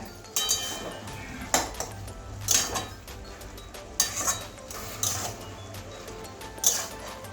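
Metal pot lid lifted and a spoon stirring fish curry with cabbage in a pan, several sharp clinks and scrapes at intervals over a low steady hum, close and fairly quiet.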